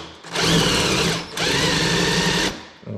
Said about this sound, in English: It's drilling pretty easily.